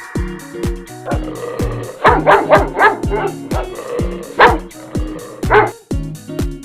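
A dog barks and yips in quick repeated bursts, loud and close, over a bouncy children's rhyme melody with plucked tones.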